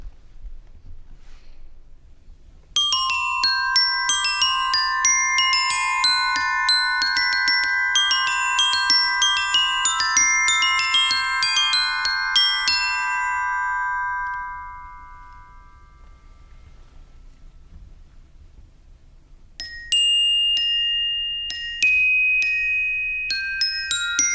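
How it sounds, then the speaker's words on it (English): Bright metallic glockenspiel bars struck with mallets ring out in a flowing melody with sustained overlapping notes, then a short pause before a few more struck notes. "The bells, also called the glockenspiel, are an example from the pitched side of the percussion family."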